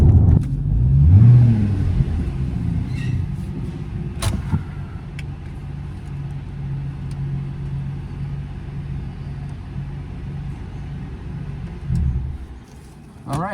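A boosted, bolt-on Ford Mustang GT500 roars from inside the cabin under hard acceleration with a deep, rising engine rumble that surges and eases, as traction is lost in low gears; a voice speaks briefly over it.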